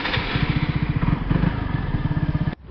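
A booster scooter engine runs close by with a fast, even two-stroke putter that pulses rhythmically for a few seconds, then cuts off abruptly.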